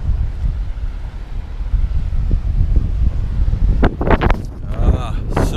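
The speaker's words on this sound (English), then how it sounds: "So much wind, sorry." Strong wind buffets the microphone on a Thai beach, a steady low roar with gusts throughout, and a voice speaks briefly near the end.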